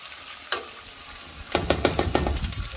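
Rice with squid and cuttlefish sizzles loudly in a pan after a splash of albariño wine, with a brief stir at first and then a burst of crackling frying and scraping that continues without talk.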